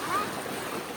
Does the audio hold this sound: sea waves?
yes